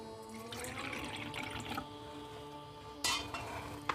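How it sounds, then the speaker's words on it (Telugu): Water is poured into small metal ritual vessels used for a worship ritual, a soft trickling splash with light metallic clinks, quiet and close, with no talking. "ముందుగా ఆచమనం కోసం తీసుకున్న పంచపాత్రలలో నీళ్లు పోసుకున్నాను"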